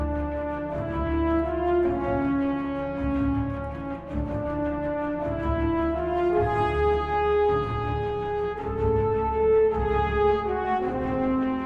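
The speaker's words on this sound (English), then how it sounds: "it does remind me of this piece of royalty-free music." Royalty-free orchestral music resembling the Dune theme plays on its own, with sustained brassy chords over a low droning bass and a slow, stately melody line shifting pitch every second or two.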